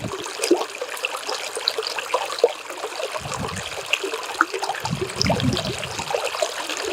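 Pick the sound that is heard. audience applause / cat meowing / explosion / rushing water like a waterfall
rushing water like a waterfall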